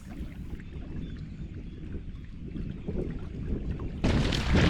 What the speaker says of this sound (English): there was enough wind for some pleasant sailing